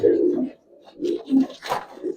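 Pigeons of old-breed Giribaz and Palla lines coo in low, throaty bursts, several soft rolling calls close by with short pauses between them.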